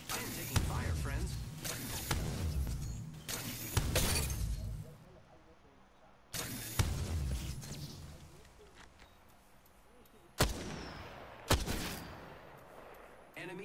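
Gunfire in the Apex Legends video game comes as several loud bursts of shots and impacts separated by quieter stretches, with players talking over the action.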